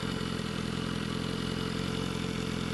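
A 2015 BMW S1000RR motorcycle engine idles in a steady, even mechanical hum with a rapid low pulse, close and alone for a few seconds.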